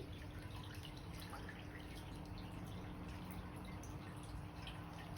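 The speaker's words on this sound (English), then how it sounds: "And just tip the water out." Water poured out of a small hermit crab tank, draining off damp sand in a steady soft trickle with dripping and splashing throughout, faint and continuous with no talking.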